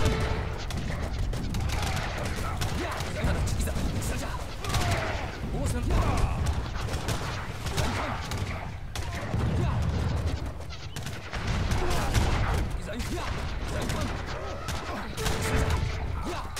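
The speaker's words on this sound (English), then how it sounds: "We're taking heavy fire." Gunfire in the strategy video game Age of Empires 3 during a battle involving ships and cannon, with dense continuous volleys of musket and artillery fire and a person talking over the steady crackle.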